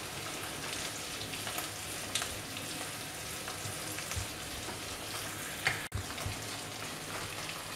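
Diced ham cooking gently in butter over very low heat, together with other ingredients in a pan, gives a low, even sizzle with faint crackles and an occasional utensil knock, close and quiet with no voices.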